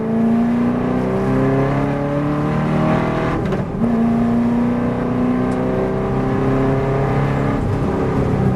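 Heavy V8 race car engine driving on a greasy track, a loud continuous in-car drone with shifting revs, a brief dip midway, steady throughout without talk.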